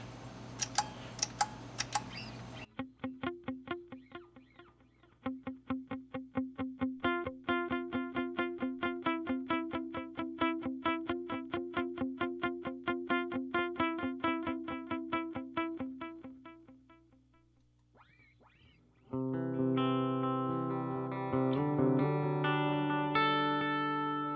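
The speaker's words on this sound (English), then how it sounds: "a dotted eighth, just kind of a simple delay, and then a longer delay for the swells" An electric guitar plays single notes through a dotted-eighth delay whose echoes tick rhythmically, then stops briefly before a louder sustained chord swell rings out with a longer delay.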